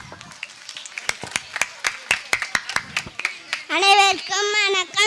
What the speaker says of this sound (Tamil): கரகோஷம் எழுப்பி கைதட்டவும்.